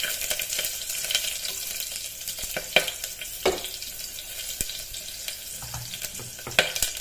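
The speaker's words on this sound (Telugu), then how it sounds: "ఆవాలు పేలయ్యి, ఇప్పుడు ఆనియన్ వేసుకుందాం" Onion frying in hot oil with popped mustard seeds and cumin, a steady close sizzle broken by scattered sharp crackles and a few clinks of a spoon, with no voices.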